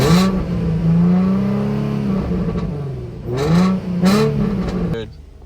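A car engine at a New Year's Eve auction runs loud and close, humming steadily before revving up twice in quick succession, then cuts off abruptly near the end.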